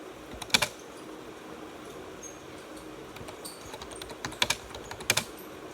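Sparse bursts of typing on a computer keyboard, a few quick clusters of clicks separated by pauses, fairly quiet over a low room hiss, with no talking.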